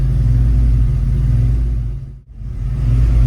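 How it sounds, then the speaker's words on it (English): A turbocharged 302 Mustang GT engine idles while still warming up, its steady low rumble rising and dipping slightly as the RPM hunts, with a brief quiet dip near the end before the idle resumes. "we still have a little bit of hunting, surging RPM with our idle air control valve"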